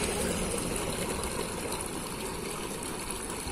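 Water flows through a small irrigation canal on a rural plot in the Jaíba irrigation project, Minas Gerais: a steady, close rushing and gurgling that holds level throughout, with no voices.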